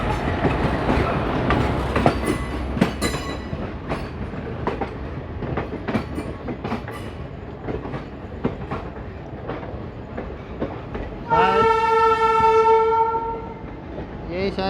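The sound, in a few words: passing train on Indian railway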